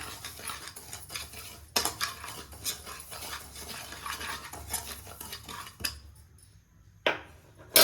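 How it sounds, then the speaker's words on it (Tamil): Semolina being roasted in ghee in a kadai for sweet paniyaram, heard as busy scraping and clinking of a metal spoon against the pan in irregular bursts, with a few sharper knocks and a quieter pause near the end. "நெய் ஊற்றி கொஞ்சமாக அந்த ரவை வறுத்துக்கலாங்க"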